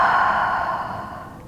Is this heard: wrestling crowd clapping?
no